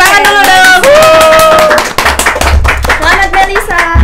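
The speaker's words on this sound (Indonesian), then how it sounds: "Tepuk tangan dulu dong." An audience claps for a participant at a campus podcast event, crisp separate hand claps ringing out while voices talk and call out loudly over them.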